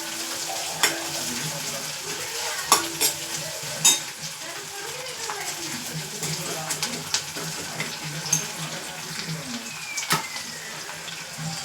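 Green chillies fry in hot oil with onion for chilli potato, a constant close crackling sizzle broken by sharp metallic clinks and scrapes of a stirring utensil against the pan.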